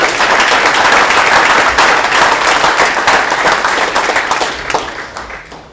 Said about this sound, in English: Another round of applause for Mr. Tom Allison.